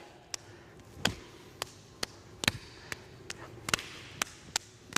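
Sharp hand slaps crack out irregularly during a Jeet Kune Do parry riposte drill, about a dozen crisp close impacts, some falling in quick pairs, with no talking over them.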